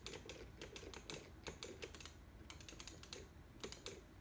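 Rapid keystrokes on a computer keyboard plugged into a Raspberry Pi 4, clicking in quick uneven bursts with short pauses, close and fairly quiet with no talking.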